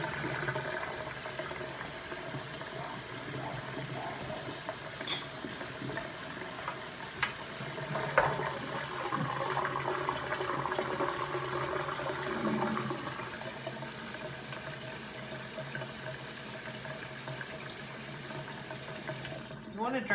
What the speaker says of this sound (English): we're gonna go ahead and drain our potatoes